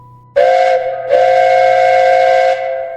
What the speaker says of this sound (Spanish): De repente, el silbato volvió a sonar.